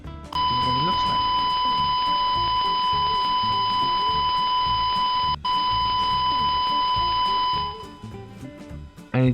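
A blue screen simulator's computer error screen plays a loud, continuous electronic beep tone for several seconds, breaking briefly once, while a person talks underneath.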